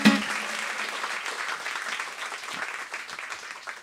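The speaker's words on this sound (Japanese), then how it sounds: "もう一度皆さん大きな拍手で山崎正義" A theatre audience at a live Japanese comedy stage show gives sustained applause, a dense, even wash of many hands clapping that holds steady for the whole stretch without fading.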